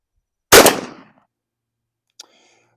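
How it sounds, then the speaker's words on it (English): A single loud, close shotgun blast from a Remington Heavy Dove shell through an improved cylinder choke at 25 yards, decaying over about half a second, followed by a faint metallic click. "So Remington Heavy Dove, let's give it a shot."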